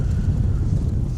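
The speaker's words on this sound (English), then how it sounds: "It's way too windy out here." Strong wind buffets a microphone outdoors beside a canal on the Broward–Palm Beach county line, producing a loud, continuous low roar with fluttering gusts and no voices.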